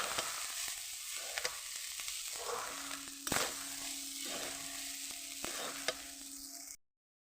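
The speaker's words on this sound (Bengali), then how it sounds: "এখন আমি ভাতটাকে ঢেলে দেবো, ভেজে দিয়ে দিলাম। এবার আমি ভালো করে নেড়ে ছেড়ে নেব।" Rice with mixed vegetables frying in a pan for red pulao made from soaked leftover rice, a steady broadband sizzle broken by a few sharp spatula scrapes and stirring knocks, close and fairly loud, ending abruptly.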